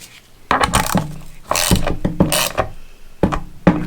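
Bolts on a Ford 6.0 diesel FICM are snugged down with a ratchet, bursts of quick clicking pawl sounds in several short runs separated by brief pauses, close and clear.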